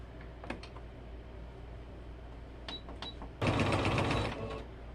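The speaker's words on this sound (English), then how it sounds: "I'm going to sew it down." A sewing machine stitching down quilt blocks gives a short, fairly quiet burst of running stitches near the end, after a few faint clicks and taps.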